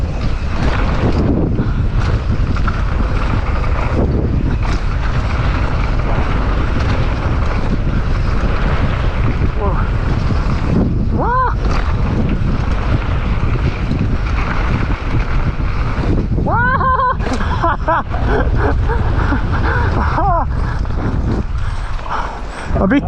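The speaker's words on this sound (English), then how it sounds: "A bit too windy." Strong autumn wind blasting across the microphone at a bike park, a loud continuous rumbling buffet throughout, with brief voices and squeaky mechanical sounds breaking through now and then.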